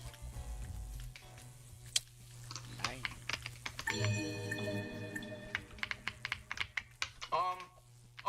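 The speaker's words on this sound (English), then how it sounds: "Satisfying ASMR keyboard." Rapid clicking of a computer keyboard being typed on, with irregular bursts of key strikes mixed with game sounds and tonal effects, fairly close and clear, with a voice speaking in parts.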